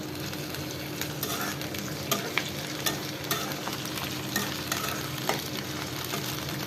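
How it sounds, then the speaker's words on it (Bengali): Raw prawns and onions fry in a pan with a continuous close sizzle, broken by regular scraping stirs of the spatula. "চিংড়ি মাছগুলো কাঁচা রয়েছে, এগুলোকে একটু ভেজে নিতে হবে"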